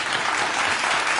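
An audience at a philharmonic hall claps together in a brief, dense burst of applause, steady and fairly loud throughout.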